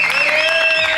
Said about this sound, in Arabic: نحب بالله تصفيقة كبيرة برشا على وجود الكباريه.